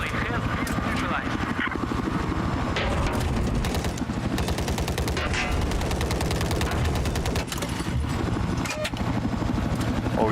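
Gunfire from a PlayStation 5 shooter game comes in dense, rapid bursts like machine-gun fire, loud and continuous, with a low rumble underneath that may be a helicopter.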